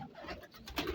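A short soft coo from a breeder's prized pigeon in Sheikhupura, brief and close, with light background noise.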